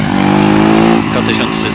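A Suzuki Bandit motorcycle engine on the Stelvio Pass gives a short, loud, steady drone that shifts in tone near the end.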